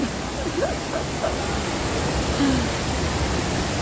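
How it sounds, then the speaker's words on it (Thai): An indoor waterfall at The Mall Bangkapi shopping mall gives off a steady, even rush of falling water, loud and unbroken, with faint distant chatter underneath. "น้ำตกสวยงามมากเลยนะคะ"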